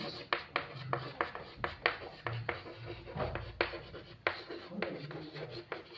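Pen strokes scratch and tap in short irregular bursts as a differentiation math problem is written out, close and fairly quiet, with a few faint background sounds.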